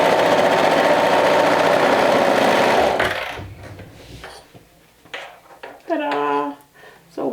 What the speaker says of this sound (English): Sewing through quite a few layers